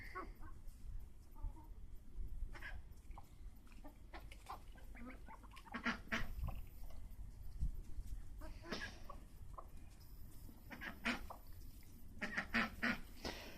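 Six chickens tear at a paczki pastry, clucking and pecking at close range, with scattered sharp pecking taps and low murmuring calls, sporadic and uneven throughout.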